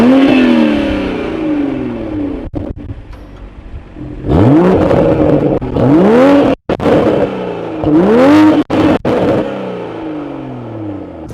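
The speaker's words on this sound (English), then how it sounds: "Exhaust actually sounds pretty good." A 2021 Toyota Supra GR 3.0 revs through its dual exhaust tips, loud and close, with repeated rising blips separated by brief drops back to idle.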